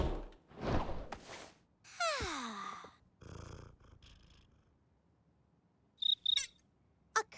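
An animated cartoon scene where a cricket gives two quick high chirps near the end, following earlier whooshing and swooping sound effects and quiet gaps.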